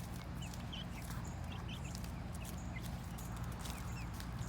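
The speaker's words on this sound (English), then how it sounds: "Bielefelder Chickens eating lettuce." Bielefelder chickens cluck softly while pecking at lettuce, several short chirpy clucks scattered over a steady low background hum, near but fairly quiet.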